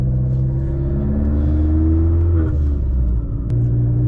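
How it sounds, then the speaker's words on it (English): Revving from a Vauxhall Corsa VXR fitted with a 3-inch Cobra exhaust system and back box delete, a loud close engine drone that climbs and shifts pitch while driving, with no talk. "Obviously Cobra exhaust system, 3-inch Cobra exhaust system, back box delete. Sounds really good."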